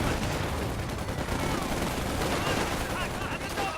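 Company of Heroes battle gunfire rattles on without a break, a dense mix of rifle and machine-gun bursts at a steady loudness, with voices talking faintly beneath it.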